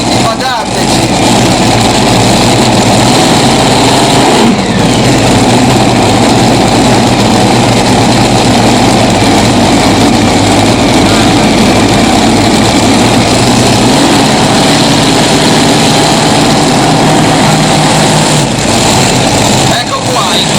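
Four engines of a tractor-pulling machine at an Italian championship event in Chiarano roar at full throttle in a loud, steady drone, with a brief dip partway through and a commentator talking over it.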